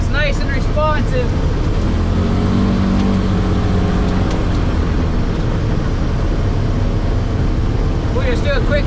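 A Polaris Ranger 900 XP utility vehicle drives around a field, its engine a loud, steady drone held close throughout, with rattling and road noise mixed in.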